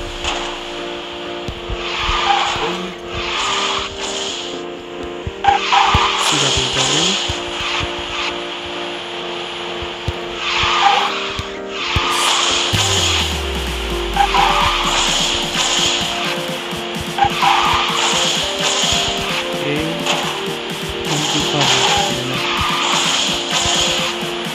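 Car drifting in the racing video game Bakusou Drifters, with continuous loud engine roar and tire skidding throughout, occasional brief speech faintly in the background.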